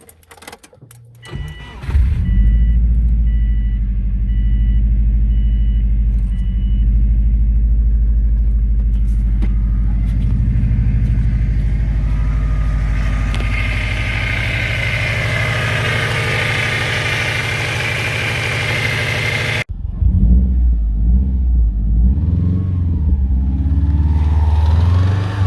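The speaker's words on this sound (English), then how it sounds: "Alright, I'm gonna do a cold start." A project car that has sat for about two years cold starts with a brief crank, then the engine catches and settles into a loud, steady rumbling idle, with a sudden shift in tone near the end.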